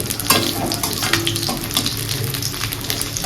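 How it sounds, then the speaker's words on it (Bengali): Small tapse fish fry in hot oil in a home kitchen with a steady, close, loud sizzle and bubbling hiss that runs unbroken, with no speech. "তো এখানে তপসে মাছের ফ্রাইটা হচ্ছে"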